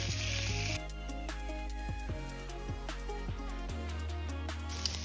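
Scallops searing in brown butter in a hot pan, a dense continuous close sizzle with no talk, interrupted by a few faint clicks.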